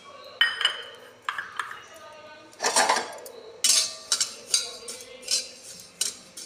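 Flax seeds being dry-roasted in a pan on a low flame make irregular bursts of metallic scraping and clinking from stirring, close and moderately loud against a quiet background.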